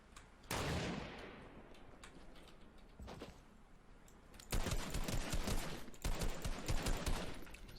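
Gunfire in the video game Fortnite rings out as a loud burst near the start, followed by a few isolated shots and then two long sustained volleys of rapid fire.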